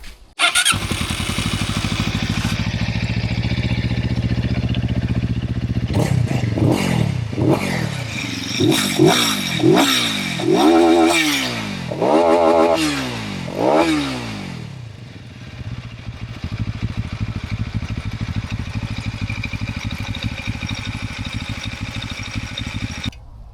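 A vintage Junak M12 400 motorcycle engine idles, then revs hard in a rapid series of sharp throttle blips, loud and close, before settling back to a steady idle.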